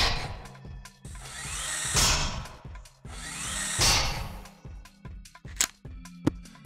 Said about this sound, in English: The drill gun is a medium range weapon that deals a good amount of damage and has a decent range.